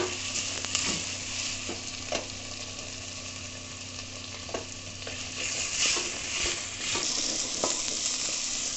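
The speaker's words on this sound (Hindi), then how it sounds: "लोटस स्टेम इसमें अच्छी तरह से ऐसे भुंज रही है।" Lotus stem sautés in oil over a medium flame, a steady close sizzle that persists throughout, broken by intermittent scraping and tapping as a utensil stirs the pan.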